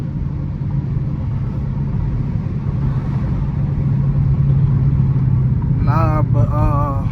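A Dodge Challenger R/T idles and rumbles at a car wash, a loud steady engine drone that swells slightly mid-clip, with a brief whining, warbling tone rising near the end.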